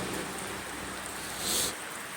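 Heavy monsoon rain falling across Kerala in June: a steady, dense wash of hiss that swells briefly, with no voices.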